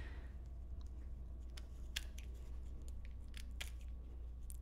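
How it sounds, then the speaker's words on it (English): Tim Holtz Tonic scissors trim the corners of a painted leather cuff in a few faint, sharp snips spread over a quiet background. "I'm going to trim the corners. So I'm going to be using the Tonic Scissors by Tim Holtz."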